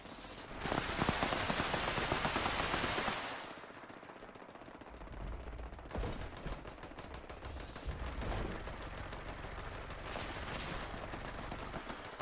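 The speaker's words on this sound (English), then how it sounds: "See, this is why everyone uses legacy Gatling plasmas. This is anti-armor explosive." A legacy anti-armor explosive Gatling plasma gun in Fallout 76 fires in long sustained volleys, a dense roaring stream of rapid shots with a crackling wash, easing briefly before resuming.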